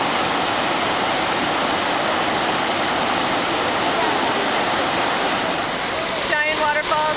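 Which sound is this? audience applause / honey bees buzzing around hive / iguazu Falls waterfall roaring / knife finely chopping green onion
iguazu Falls waterfall roaring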